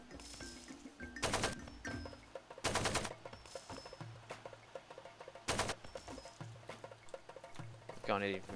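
AK rifle fire in the video game Far Cry 2: three sharp, loud bursts of rapid automatic shots spaced a few seconds apart, with a voice talking in between.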